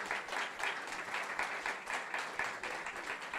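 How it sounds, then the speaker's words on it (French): A church congregation claps together in a steady, even burst of applause that holds for a few seconds, heard from a distance and fairly soft. "On peut applaudir pour ça."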